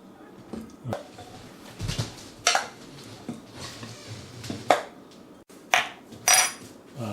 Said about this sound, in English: So these ribs have already been cut, so you just cut them into smaller pieces here.